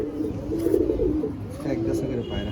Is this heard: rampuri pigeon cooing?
yes